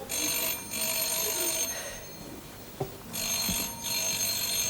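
An old telephone bell rings on a 1971 British TV comedy sketch set, with two loud, sustained bursts of metallic ringing separated by a pause, and a faint knock between them.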